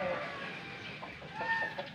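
Chickens on a Filipino poultry farm cluck softly in short, scattered bursts over faint ambient farmyard noise, fairly distant and low in level.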